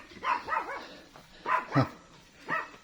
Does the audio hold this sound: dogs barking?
yes